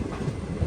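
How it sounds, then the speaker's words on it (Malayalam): The Matsyagandha Express rolls into Kundapura railway station with a brief, low, rumbling clatter of wheels at moderate distance. "ട്രെയിൻ ഇപ്പോൾ കുന്താപുര റെയിൽവേ സ്റ്റേഷനിലേക്ക് എത്തിക്കൊണ്ടിരിക്കുകയാണ്"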